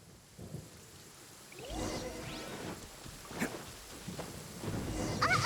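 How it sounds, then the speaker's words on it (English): Stormy weather in Genshin Impact with rumbling thunder, rain and gusting wind, moderately loud with rolling bursts and a sharp crack partway through, no talk. "Lightning storm!"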